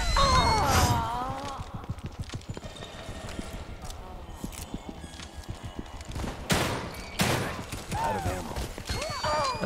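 Gunfire in The Evil Within 2, with sharp cracks and a fusillade of shots over busy game noise, including strong bursts around the start and middle, mixed with clattering footsteps and creature sounds.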